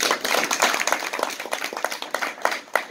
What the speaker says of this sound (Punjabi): ਆਪਣੇ ਆਪ ਦਾ ਤਾਲੀਆਂ ਨਾਲ ਸਵਾਗਤ ਕਰੋ